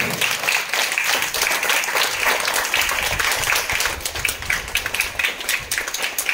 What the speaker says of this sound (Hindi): आप जो है अपनी इस महत्वपूर्ण सदन की शुरुआत करें। जोरदार तालियां बजाकर।